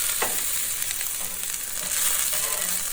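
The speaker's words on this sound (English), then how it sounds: "Flipping the onions." Onions sizzle steadily on a hot griddle as they are flipped, a dense, continuous frying hiss with a few soft scrapes of the spatula and no voices.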